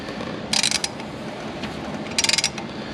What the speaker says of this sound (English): I'm going to continue rotating counterclockwise until we come back up and hit the piston stop